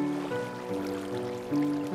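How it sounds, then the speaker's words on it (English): A small waterfall flows steadily in Minecraft, a soft continuous watery rush under a game music bed with a brief swell near the end. "We got a little waterfall right here."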